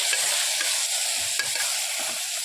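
Potato and tomato curry stirred in a pan, a steady close sizzle with a few soft scrapes of the spoon breaking through, no voices.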